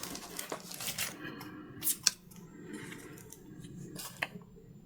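Scissors snip sublimation paper into an octagon shape around the corners of Christmas ornaments: several quiet, close crisp cuts with soft paper rustling between them.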